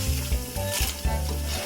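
Ragi ribbon pakoda fries in hot oil, a steady close sizzle with soft bubbling crackles and a few low clicks from stirring, with no talking.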